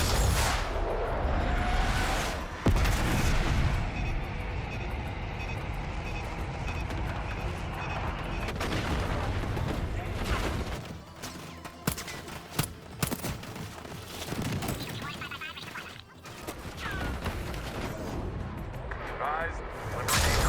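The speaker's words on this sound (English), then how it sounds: "Bombs away." Bombs exploding in the Call of Duty Black Ops 6 campaign, heavy booming blasts and rumble up front that give way to scattered impacts and debris, with radio-style voices speaking over the din.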